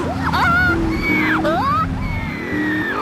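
A voice imitates a monkey mating call from Grand Theft Auto: Vice City with warbling, swooping whoops and hoots, loud and close, over a noisy, rumbling background.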